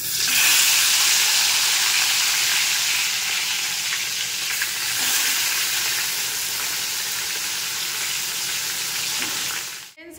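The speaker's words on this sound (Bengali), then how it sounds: "চলো মাছ ভাজা দিয়ে দিই।" Six turmeric-and-salt-rubbed fish pieces frying in a hot wok, a loud continuous sizzle and crackle of oil lasting throughout, with a brief clatter right at the end and no talking.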